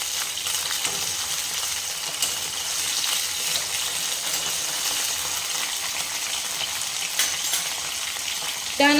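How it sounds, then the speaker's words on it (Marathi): Drumstick pods and curry leaves sauté in hot oil in a pan. A steady close sizzle runs throughout, with faint stirring scrapes and a brief clink near the end. "आता या शेंगा छान परतून घेऊया तेलामध्ये"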